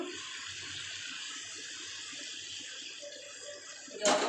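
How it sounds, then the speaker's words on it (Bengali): A small amount of water is poured into chicken gravy in a pan, making a soft, steady hiss of flowing liquid that ends with a brief louder splash. "আমি অল্প অল্প জল দেবো"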